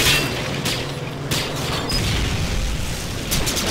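Blasts from grenade explosions in Call of Duty Star Wars Frontlines on the Jundland Dusk map, several sharp booms and bursts landing over a few seconds, loud and punchy with crackling debris between hits.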